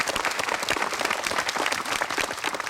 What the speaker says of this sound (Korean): 아유 박수가 막 나옵니다